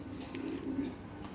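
Lahore pigeons give soft, low rolling coos close by, a faint but continuous murmur with one brief swell in the middle.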